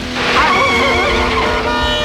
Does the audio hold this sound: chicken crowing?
no